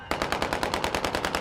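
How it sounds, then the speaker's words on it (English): Celebratory gunfire in Syria, a rapid automatic burst of roughly a dozen evenly spaced shots, loud and close, with no speech. "Celebratory gunfire,"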